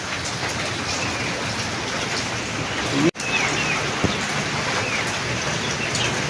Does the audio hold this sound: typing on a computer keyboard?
no